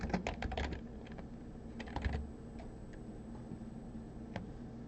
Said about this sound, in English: I typed in list item there